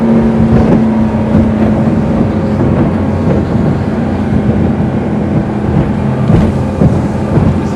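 Sea Ray SPX 230 bow rider, a 23-foot motorboat, carving turns at speed around 70 km/h, its engine a loud, steady roar with wind buffeting and water rushing against the hull throughout, no voices.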